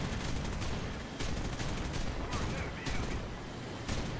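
Rapid machine-gun bursts from a P-59A jet's guns in War Thunder, several sustained broadband rattling volleys with brief gaps, loud and continuous over engine noise.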